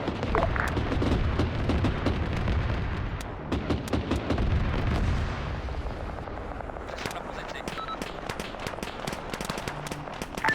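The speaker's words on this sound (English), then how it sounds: "Shots from the south." Video game gunfire rings out from the south in a Russian campaign battle, a rapid crackle of sharp shots and bursts, loud at first then thinning into scattered distant reports.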